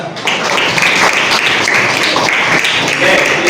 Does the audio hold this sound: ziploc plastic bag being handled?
no